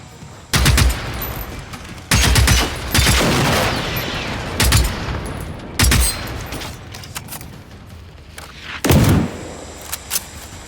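Loud gunfire from the video game Generation Zero: a handful of sharp, heavy shots and short bursts crack out at irregular intervals over about ten seconds, with reverberant tails and a low ambient rumble between them.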